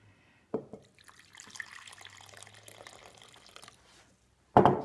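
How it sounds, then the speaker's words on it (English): Warm water is poured into the middle of a well of corn masa flour for tortilla dough, giving a soft trickle and splash that runs for a few seconds, with a brief louder splash before and after. "Then I add the warm water in the middle."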